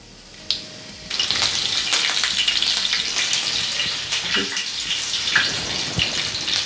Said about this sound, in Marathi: दोन चमचे मी तेल टाकलेलं आहे तर आता हे साहित्य आपण त्याच्यामध्ये टाकून घेऊ पहिली टाकणार आहे मोहरी